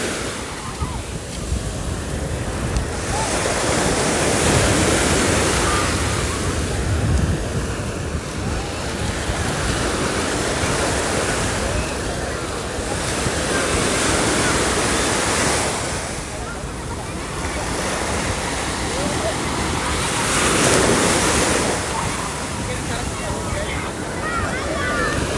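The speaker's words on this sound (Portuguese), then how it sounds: "alguns segundinhos ouvindo esse barulho gostoso das ondas" Ocean waves roll onto a beach at Tamandaré, Pernambuco, Brazil, in slow surges, each swell building to a loud wash and receding, with wind rushing over the microphone.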